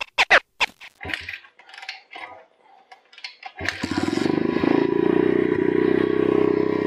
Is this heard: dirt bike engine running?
yes